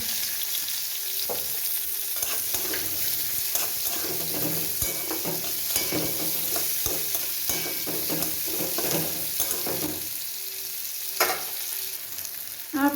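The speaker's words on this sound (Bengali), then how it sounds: "পেঁয়াজটা অনেকটা ভাজা ভাজা হয়ে এসছে" Onions fry in hot oil with dry red chilli and bay leaf, a continuous close sizzle with frequent spoon stirs and scrapes across the pan for about thirteen seconds, no voices.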